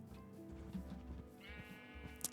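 A sheep bleats in the Minecraft video game: one clear, wavering bleat over quiet game ambience, with a short sharp sound right at the end.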